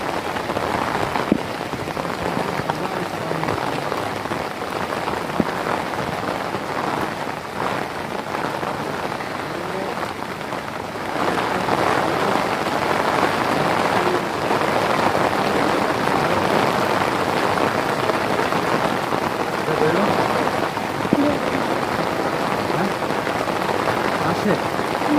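Steady rain pouring onto a rooftop garden of potted plants and saplings, a dense even patter that grows heavier and louder about halfway through and keeps on without a break.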